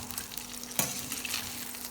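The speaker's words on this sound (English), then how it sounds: "Keep stir-frying with a flat spatula." Pork stir-frying in a hot pan, worked with a flat spatula: a steady close sizzle with a brief scrape or clatter of the spatula against the pan partway through.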